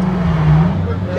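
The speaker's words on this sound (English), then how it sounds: "You can hear all the cars starting." Several cars idle and start up at a Corvette and all-vehicle car show in Saint Charles, Missouri, a steady loud engine rumble with overlapping motors close by.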